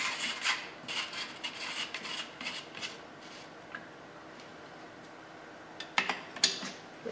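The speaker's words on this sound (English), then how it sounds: "let's tighten the castle nut." A castle nut being tightened on a rifle buffer tube, giving close metallic scraping and rasping from a tool in short strokes, quieter in the middle and picking up again with sharper clicks near the end.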